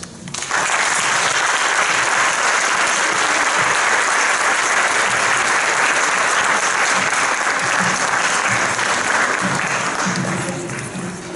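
Sustained applause from an audience after a lecture on educational evaluation in Mexico, a dense, loud wash of clapping that swells in quickly and holds steady for about ten seconds before easing slightly.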